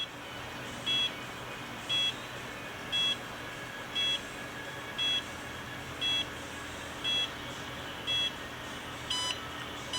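A Promatic receiver beeps while booting up after a magnet reset: nine short, evenly spaced electronic beeps about one second apart, each clear but fairly quiet over a steady background hum.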